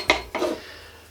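Mugs and cutlery clinking while tea is made, two quick close ceramic and metal knocks in succession, then quiet.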